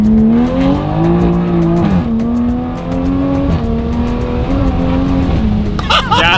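A turbocharged, tuned 2020 Toyota Supra with a downpipe exhaust revs and climbs through several gear changes, the engine note loud, close and continuous, with brief shifts between pulls.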